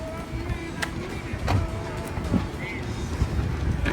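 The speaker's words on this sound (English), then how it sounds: "I think we got a car coming, guys." A car passes along a street lined with old brewery buildings, its broadband road noise blending with steady outdoor wind and a tour group chatting nearby.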